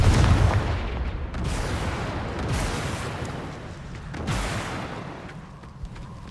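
Confringo fire spells burst in Hogwarts Legacy, heard as heavy booming blasts: a loud one at the start, then rumbling impacts near 2.5 and 4.3 seconds, with a lingering roar between them and no speech.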